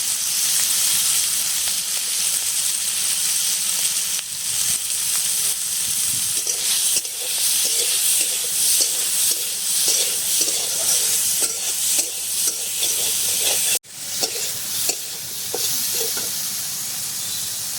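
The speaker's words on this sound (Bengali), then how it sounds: "চিংড়ি মাছটা ভাজা হয়ে গেছে" Prawns fry in hot oil with salt and turmeric, a loud continuous sizzle and hiss with stirring scrapes and one brief drop partway through.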